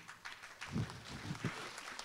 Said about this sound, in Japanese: 拍手のタイミング独特